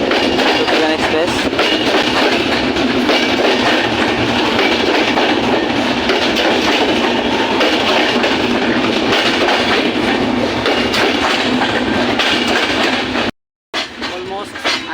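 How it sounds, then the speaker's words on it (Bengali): Drutojan Express passenger train on the Panchagarh to Dhaka line, running on rails near Natore station, gives a loud, steady rumble and rhythmic clatter of wheels that fills nearly the whole stretch, with a brief cut near the end. "আমাদের ট্রেন এখন নাটোর স্টেশন"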